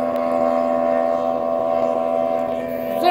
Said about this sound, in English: That is a loud little boat.